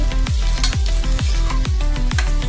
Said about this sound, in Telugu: ఆయిల్ వేడాక ఆనియన్స్ కూడా వేసాను. తర్వాత గ్రీన్ చిల్లీస్ వేసాను. ఇలా కలిపాను.